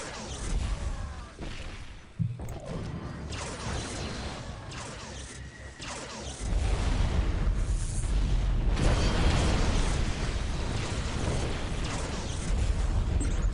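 Tau units open fire on a Space Marine vehicle in the Dawn of War: Ultimate Apocalypse strategy game, a dense barrage of gunfire and explosions that swells louder halfway through, with one sharp blast near the start.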